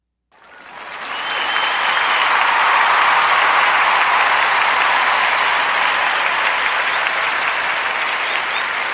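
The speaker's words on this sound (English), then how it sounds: "join me in the giving that sister a warm narrative podcast round of applause" Dense, steady applause from a crowd rises quickly from silence and holds at full strength for several seconds, clapping alone with no talking over it.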